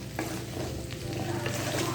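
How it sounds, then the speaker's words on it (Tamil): Coconut masala with ground roasted sesame powder cooks in a pan over a low flame, stirred steadily; a dense, even sizzle with soft scraping strokes fills the space, close and fairly loud, with no voices. "அடுப்பை குறைச்சி வச்சுக்கிட்டு கிண்டிக்கங்க"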